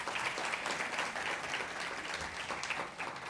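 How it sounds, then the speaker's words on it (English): A festival crowd gives a big, dense round of applause for the speakers at a Science of Success event. The steady clapping fills the whole moment with no talk. "let's give them a big round of applause."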